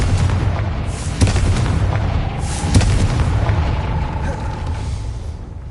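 A Confringo fire spell explodes in the Hogwarts Legacy video game, sending a loud, rumbling blast over a dense game soundscape, with two sharper booming hits and a lingering roar.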